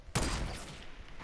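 A single sharp sniper rifle shot in Fortnite cracks out loudly near the start, then decays into a lingering tail and ambient game noise.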